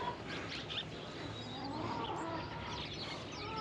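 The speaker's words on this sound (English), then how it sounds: "Look out, there's a scary chicken." A backyard chicken clucks softly among the flock, low murmuring calls and a few higher chirps heard at a moderate distance over steady outdoor background noise.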